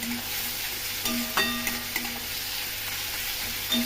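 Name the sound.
onions frying and being stirred in a pan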